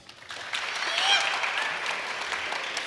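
A small audience claps together in a brief, scattered round of applause lasting a few seconds.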